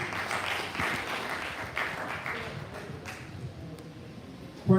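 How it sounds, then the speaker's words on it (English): A workshop audience at the University of Ilesa applauds a presentation with a moderate, even patter of clapping that carries on for several seconds at mid distance. "A more befitting round of applause for him, please."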